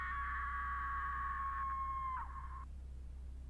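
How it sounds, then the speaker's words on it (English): A long, sustained high-pitched scream-like wail from the horror video game The House, steady and then sliding down before cutting off, heard alone over a low hum. "It sounds like someone screaming in the basement."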